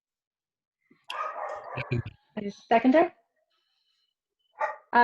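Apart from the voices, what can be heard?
dogs barking in a meeting participant's home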